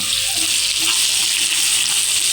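Green chilli, crushed ginger and garlic fry with carrot in a pan, producing a loud, unbroken, close sizzling hiss that runs through the whole stretch.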